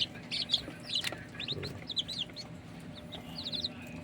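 Rhode Island Red, Black Australorp and Barred Plymouth Rock chickens cluck and chirp in a steady scatter of short calls around a farm coop, with faint background noise and no talk.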